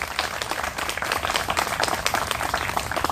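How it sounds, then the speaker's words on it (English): A crowd claps for a mural artist at a kids' mural project dedication, with dense, steady applause filling the whole stretch, close and fairly loud, with no talk over it. "He needs a round of applause."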